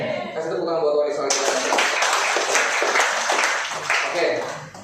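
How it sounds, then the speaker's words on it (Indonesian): A church congregation claps in praise during a worship service, a dense, loud, sustained burst of many hands that starts partway in over an ongoing musical or vocal backdrop and keeps going steadily. "Kasih tepuk tangan buat Tuhan Yesus."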